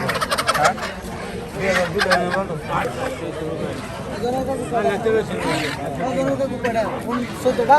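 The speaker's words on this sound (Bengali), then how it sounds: "প্রচুর হাঁস মুরগি এই হাটে" Ducks and chickens at a busy village poultry market crowd the air with steady clucking and squawking, mixed into constant crowd chatter and people talking close by.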